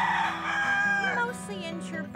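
A rooster crows loudly and close by at a tent-city camp where rescued birds are kept, its call stretching over a couple of seconds against a faint background.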